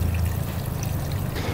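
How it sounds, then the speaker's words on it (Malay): Water is poured into a Victa Turbo TL-20 or TS-20 machine, a steady close trickle and splash sounding continuously at low volume with no talk over it. "ni kita masukkan air sedikit"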